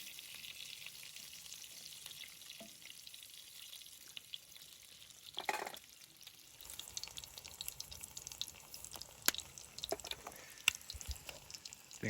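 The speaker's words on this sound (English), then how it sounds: "The only thing better than bacon cooking is bacon cooking over a fire." Bacon fries in a pan over an open campfire outdoors in the winter desert, giving a soft, steady crackle and sizzle with occasional louder pops and clicks, fairly faint and without talk.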